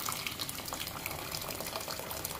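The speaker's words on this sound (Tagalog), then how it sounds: "Tapos ito, lalagyan ko siya ng tubig." Hot water pours into a pot of beef on a home stove, a steady close splashing trickle with fine bubbling texture that continues unbroken for a couple of seconds with no talking.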